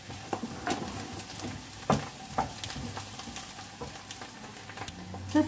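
Chopped onions sizzle softly in a pan while cooking for a fish pastilla, a steady low crackle broken by occasional sharper pops and stirring clicks.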